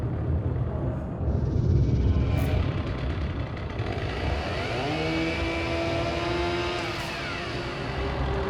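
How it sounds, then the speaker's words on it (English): Chainsaw revving in a video game Easter egg featuring Leatherface, a rough engine roar that climbs in pitch as it accelerates, loud and close, with no talk. "you can hear the sound of a chainsaw revving"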